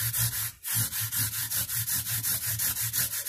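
A fret crowning and polishing tool is rubbed back and forth along guitar frets in quick, even strokes, a close scratchy rasping rhythm with one brief pause early on.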